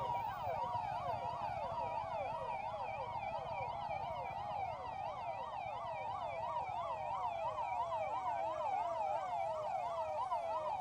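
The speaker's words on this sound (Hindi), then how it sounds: "सायरन की आवाज के साथ" An Uttar Pradesh fire and emergency services siren wails, cycling rapidly up and down without pause during a Republic Day parade rehearsal, steady and fairly loud, with faint road noise beneath.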